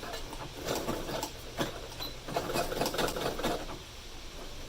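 Home sewing machine runs a zigzag stitch through a fabric face mask, rapid mechanical clatter in uneven bursts with brief pauses, close and moderately loud.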